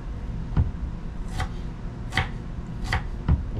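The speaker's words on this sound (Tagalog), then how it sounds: "Ating sibuyas, gayatin din natin ito ng maliliit." Onion being chopped into small pieces with a knife on a cutting board: four or five crisp, close chopping strikes at an uneven, unhurried pace, with no voice.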